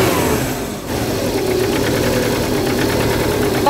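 A cold turbocharged Subaru replacement engine, with its turbo leaking oil, idles close by with a steady, loud mechanical drone and slight wavering in pitch. No voices are heard.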